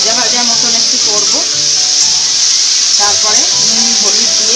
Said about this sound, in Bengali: আলুটা একটু ভাজা ভাজা মতন একটু করব,